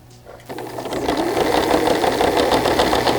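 A sewing machine starts up and runs continuously along an existing seam of a shirt, a steady close mechanical whir building within the first half second and holding at an even pace.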